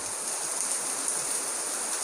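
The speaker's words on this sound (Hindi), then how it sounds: "देख सकते हैं आप बारिश की स्पीड, मोटी मोटी मोटी मोटी बारिश आज।" Heavy rain pours onto a flooding road in Sikar as a steady, dense hiss. It stays even and fairly close for the whole stretch, with no voices.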